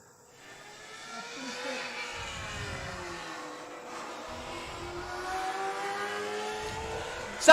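Classic race cars at VIR heard as a sustained engine drone that swells gradually, with multiple engines overlapping in the distance and a steady whine, fairly loud and continuous with no speech.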